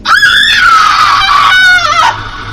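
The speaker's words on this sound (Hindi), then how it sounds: "मोहन ने तुरंत हाथ में पकड़ी मशाल बंजारन के पीठ में बनी उस निशान पर लगा दी और दर्द के मारे बंजारन चीख पड़ी।" A woman lets out a long, very loud, shrill scream of pain after a burning torch is pressed to a mark on her back. The cry is held with a wavering pitch and then cuts off sharply.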